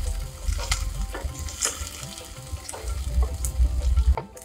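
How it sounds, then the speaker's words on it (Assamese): Onions frying in hot oil in a pan for a tomato and ash gourd curry, with a constant close sizzle, low rumbling bubbling, and repeated clinks and scrapes of stirring, no voices. "পিঁয়াজখিনি এতিয়া ভালকৈ অলপ সময় ভাজি ল'ম।"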